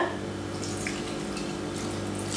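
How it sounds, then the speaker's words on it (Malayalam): Water is poured into a pot of oats kanji being cooked in a kitchen, a steady close splashing trickle lasting a couple of seconds with no voices. "കുറച്ച് വെള്ളം ഒഴിച്ച് കൊടുക്കുകയാണ്"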